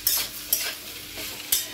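Fried cauliflower and potato in a pan, stirred as poppy seeds go in: three sharp scraping strokes of a spatula over a soft steady sizzle, close by and with no talk.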